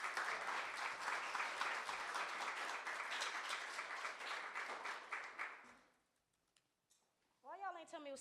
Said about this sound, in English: Can y'all please clap it up for all the poets that came up here before me?